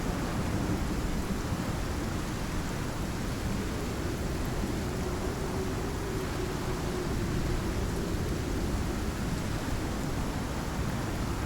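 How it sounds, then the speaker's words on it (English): Steady rain and rolling thunderstorm ambience from a video game, a dense continuous roar filling the whole stretch at an even level with a faint low rumble partway through, no talking over it. "It's very loud during storms."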